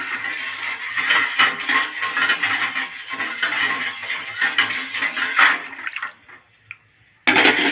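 Lemon juice being stirred into a hot drink, with liquid sloshing and a spoon clinking against the cup steadily for several seconds, then a brief pause before the sounds resume.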